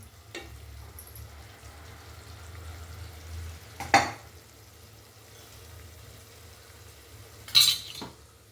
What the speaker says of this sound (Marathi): मसाला छान असा परतून घेऊ आपण